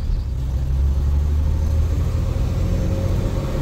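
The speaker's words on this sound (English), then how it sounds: "we're off in first gear" A 1948 DeSoto Deluxe with Fluid Drive pulls away in first gear, its engine a loud, steady low rumble heard from inside the car, with no speech over it.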